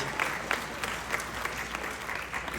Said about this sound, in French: belle main d'applaudissement, c'est pleinement mérité